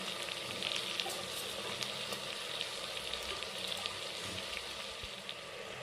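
Ingredients for peas pulao fry in oil in a pan, producing a constant close sizzle and light crackle with occasional faint stirring clunks.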